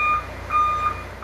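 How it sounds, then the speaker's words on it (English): Construction trucks sound repeated electronic reversing beeps at night in an East End Toronto neighbourhood, loud steady tones pulsing in a regular rhythm over low engine rumble. "loud beeping from construction trucks in the middle of the night, disrupting an East End neighborhood"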